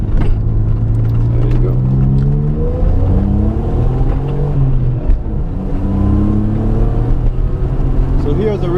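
A 1992 Suzuki Cappuccino's small engine pulls up through the revs in first gear during a U-turn, a loud rising drone heard from inside the car while people talk over it.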